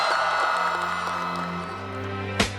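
Graduation audience at a high school ceremony breaks into sustained applause and cheering, a dense wash of clapping and crowd noise throughout with a sharp burst near the end.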